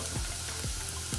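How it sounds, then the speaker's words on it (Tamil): Onions sautéing in oil for Kerala-style kadala curry, a steady soft sizzle with faint stirring scrapes, close and continuous with no talking. "வெங்காயத்தை நல்லா வணக்கிக்குங்க"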